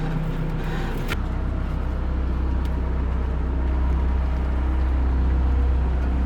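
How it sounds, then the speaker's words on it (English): A tractor engine, hooked up to pull a load, drones in a steady low rumble that steps up in pitch and weight after about a second, then holds loud and continuous to the end. "we got the tractor hooked up"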